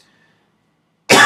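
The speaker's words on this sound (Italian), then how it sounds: "Maledetta tosse." A single sharp cough, loud and close, bursting out after near silence at the very end.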